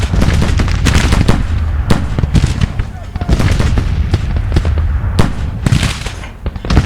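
Artillery battery firing in the Civil War strategy game Grand Tactician, a dense run of loud booming and crackling shots overlapping one another with barely a pause, heavy and close throughout.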